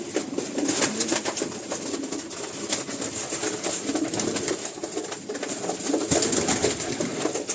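Pigeon coos from young, purebred pigeon chicks in a loft, soft repeated murmuring calls with a steady background hiss and occasional wing rustles, no talking.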